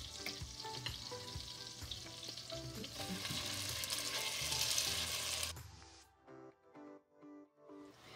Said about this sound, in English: stir this constantly and until it's nice and brown and well toasted